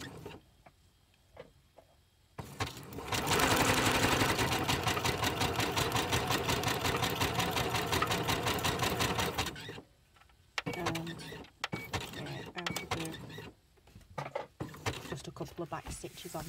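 A sewing machine stitching a paper envelope made from music paper runs in a loud, steady whirring burst of rapid needle strokes, then stops and restarts in short spurts alongside a speaking voice.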